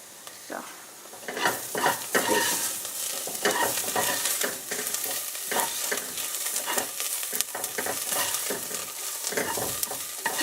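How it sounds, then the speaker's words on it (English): Onions frying in a pan for a red lentil biryani, a steady broadband sizzle with repeated stirring scrapes and utensil clinks throughout, fairly close and moderately loud with no talk. "And I'm going to fry them golden brown."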